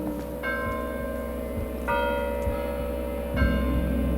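A church bell on rue Filangieri in Italy tolls three times at steady intervals, each strike ringing out clear and resonant over a continuous low background hum, with no voices present.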